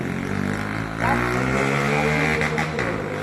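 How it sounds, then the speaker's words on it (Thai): A loud motorcycle engine drones close by in a village where traditional Sakon-style cloth is being hand-woven, its steady roar swelling as it passes. "โอ้ยเสียงมอไซค์ดัง"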